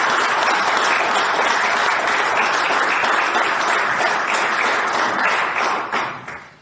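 A crowd applauds at a gathering, a loud, dense and continuous roar of clapping that holds steady for several seconds, then thins and fades out at the end.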